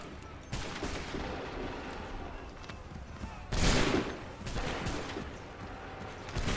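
Musket volleys in Assassin's Creed 3 during the defense of Concord crack out in a few sharp bursts over a noisy battlefield, with shouting voices throughout.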